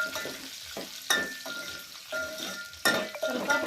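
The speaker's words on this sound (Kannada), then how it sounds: "ವಟಾಣಿ ಅದು ಒಂದು ಸ್ವಲ್ಪ ಎಣ್ಣೆ ಒಳಗೆ ಫ್ರೈ ಆಗಬೇಕು" Green peas frying in oil in a pan, a steady close sizzle broken by several sharp stirring scrapes and clatters.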